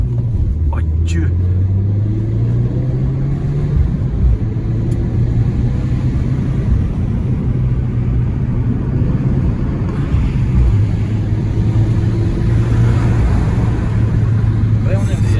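Peugeot 208 GTI engine and warm exhaust while driving on the road, a steady loud low drone that rises and falls with speed, heard from inside the car under continuous talk.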